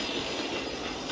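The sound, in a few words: train passing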